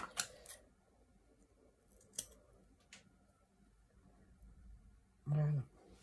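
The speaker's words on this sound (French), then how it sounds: "On va couper un peu." Scissors cut paper in a few short, crisp snips spread out in a quiet room, close to the microphone, with a brief louder buzzing noise near the end.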